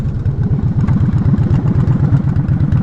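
A Yamaha Warrior 1700 motorcycle runs close by with two riders aboard, its engine a loud, steady, low throbbing pulse that continues without a break.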